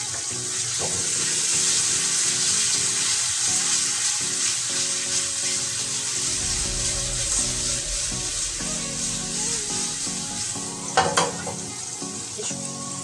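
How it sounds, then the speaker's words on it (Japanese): Bonito blood meat frying in a pan as soy sauce and sake go in, giving a strong continuous sizzle with stirring and scraping noises, a low bubbling surge midway and a few sharp clinks near the end. "火が通り切る前に気持ちだけお醤油をかけていきます"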